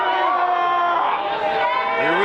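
A roaring wrestling crowd at a tag team championship match, loud and sustained with whoops and shouting voices layered throughout, close and dense for a couple of seconds.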